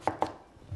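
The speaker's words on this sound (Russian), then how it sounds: "тыкву разрезаем примерно вот здесь, где она начинает увеличиваться." A knife cutting through a pumpkin in a kitchen while soup is being prepared, two crisp chopping strikes close together, then a quieter tail.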